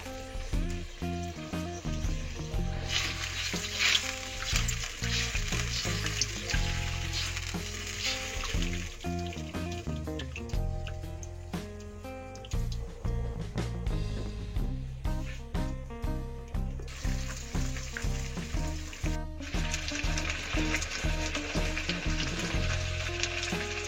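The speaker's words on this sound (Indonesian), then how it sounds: "Ini kita masak sampai dengan cuminya matang." Squid frying in a pan with Indomie Goreng seasoning, a loud steady sizzle with stirring throughout, overlaid with rhythmic background music.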